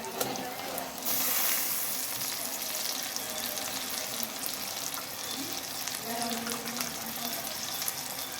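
Chicken gizzards frying in onion paste, a steady close sizzle and crackle with a brief louder hiss near the start and faint voices in the background.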